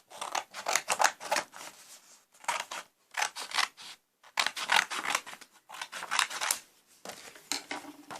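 Scissors cut through folded paper in repeated bursts of crisp snipping and rustling, close and fairly quiet, separated by short pauses, with no talk.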